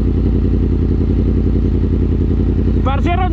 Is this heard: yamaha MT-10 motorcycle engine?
yes